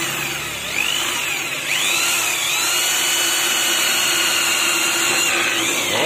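A manual hand drill with an 8 mm bit whines steadily while boring, its high mechanical tone holding constant throughout, loud and close.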